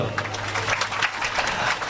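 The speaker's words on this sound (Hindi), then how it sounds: "भैया के लिए ताली बजाओ" A steady, dense patter of hand clapping fills a devotional Ramayana recitation gathering of the Shri Guru Gita Manas Parivar at Imlipara, Narharpur, as the audience applauds a speaker, sustained and fairly close throughout.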